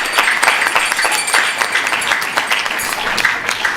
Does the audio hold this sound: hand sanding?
no